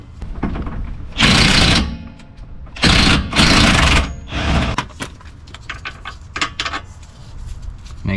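A 17 mm bolt on the rear shock of a 2011–2017 Honda Odyssey being loosened with a power tool, heard as several loud, close whirring bursts of about half a second to a second each, followed by lighter clicking and rattling.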